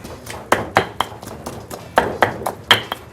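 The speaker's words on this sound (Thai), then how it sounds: "ผมก็จะเอากะปิลงตำคู่ไปด้วย" Repeated dull thuds of shrimp paste being pounded in a mortar, about a dozen strikes at an uneven steady pace, close and fairly loud with no voices.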